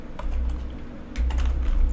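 A portal address is typed on a computer keyboard, with quick close key clicks in short bursts over a low background hum.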